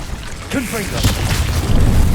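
Confringo explosive spell going off in Hogwarts Legacy, a loud, rumbling blast that swells and lingers, with a brief spoken voice near its start.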